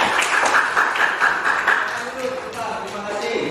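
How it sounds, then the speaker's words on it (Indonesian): A group of students claps during an outdoor long jump lesson, making dense, continuous applause that stays steady and then eases off slightly toward the end. "Oke, tepuk tangan."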